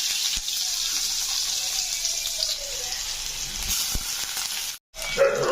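Sliced onions dropped into hot oil with popped mustard seeds for a potato side dish, giving a steady close sizzle with a few clinks of a spoon, a brief dropout near the end.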